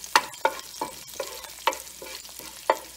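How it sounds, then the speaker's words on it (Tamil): Curry leaves being sautéed in a pan for rava pongal give a soft sizzle broken by repeated sharp spatula scrapes and taps at an uneven pace, close by and without talk. "இப்போ நம்ம கருவேப்பிலை கொஞ்சம் போட்டுக்கலாம். இது நல்லா வதக்கி வச்சுருவேன்."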